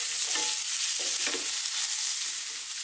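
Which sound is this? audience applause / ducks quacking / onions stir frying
onions stir frying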